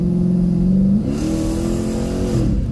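A loud, close Dodge Challenger R/T engine with a muffler delete drones with a deep rumbling exhaust while driving, its pitch shifting as the revs change, no talking over it.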